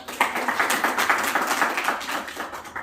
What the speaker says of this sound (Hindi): इनके लिए जोरदार ताली बजा के